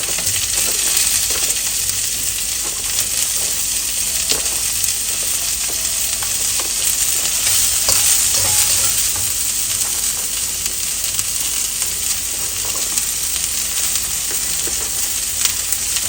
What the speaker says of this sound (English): once the garlic turns light brown, let's add broccoli and all the vegetables.